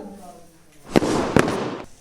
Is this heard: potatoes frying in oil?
no